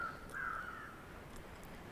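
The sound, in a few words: crows cawing overhead in the video game The Long Dark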